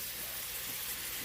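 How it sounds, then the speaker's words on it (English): Squash and onions fry in oil heated as hot as it can get, giving a steady, faint hiss and crackle of sizzling, alone without talk. "That is how we fry squash"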